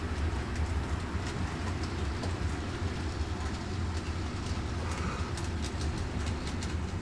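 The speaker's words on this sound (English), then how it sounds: "Harris, Telford Corso Railway has their Santa train running." A Santa train runs on the Telford heritage railway with a steady low rumble and clatter that carries on without a break, and faint bird calls come through over it.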